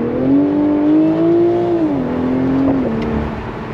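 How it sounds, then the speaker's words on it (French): A BMW Z4 M40i with a 340-horsepower B58 inline six-cylinder engine and rear-wheel drive accelerates. Its loud, steady drone climbs in pitch, drops briefly as if shifting gear, then holds on, heard from close by with no talking. "Le B58, donc comme je vous disais, très connu de chez BMW. On a toujours ce pop à l'arrière,"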